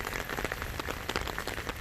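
Light rain pattering steadily on a car finished with a graphene coating, a soft continuous hiss of drops with no voices.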